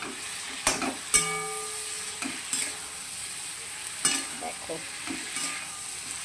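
Small chuno fish frying and being stirred in oil in a pan after a spice paste, with soft sizzling and a few sharp scraping stir strokes, close, while a voice briefly speaks.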